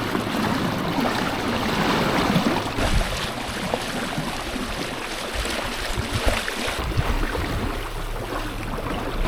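A small dinghy moves along with the current, producing a loud, continuous rush of water and a low motor-like rumble with no voices.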